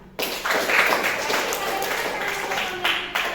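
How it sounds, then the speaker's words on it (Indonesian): A classroom breaks into applause, a dense burst of many hands clapping together for about three seconds before it fades out. "Tepuk tangan."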